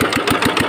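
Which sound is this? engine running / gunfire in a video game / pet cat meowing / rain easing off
engine running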